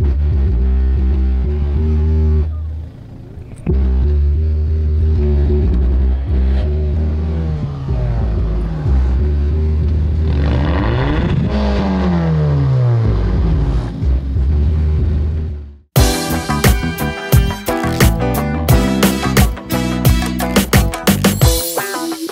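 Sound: car engine with straight piped exhaust

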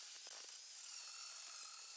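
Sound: angle grinder with grinding disc grinding off weld seam on Mercedes W124

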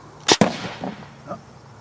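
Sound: gunshot fired during slow motion camera test

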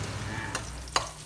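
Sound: stir-frying garlic and shark meat in oil

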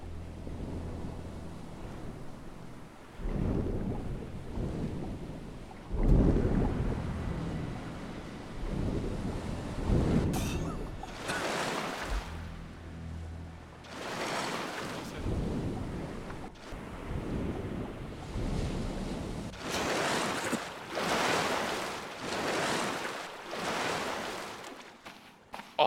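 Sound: storm with thunder and loud ocean water, video game Stranded Deep

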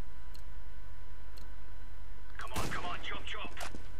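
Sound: AUG rifle gunshot in video game Counter-Strike: Global Offensive

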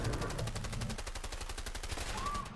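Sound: MP5 submachine gun firing in video game A Way Out

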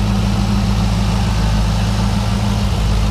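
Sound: car engine idling

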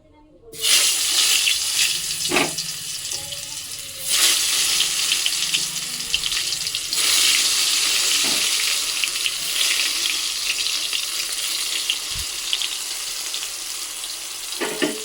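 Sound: eggplant slices frying in hot oil

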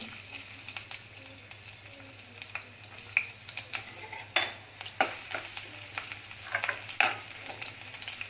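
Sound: ginger and garlic frying in oil in a kadai

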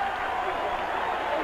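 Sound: stadium crowd applauding Wisconsin defense at college football game

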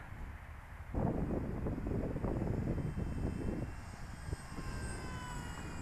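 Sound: Dynam F4U Corsair RC model airplane flying

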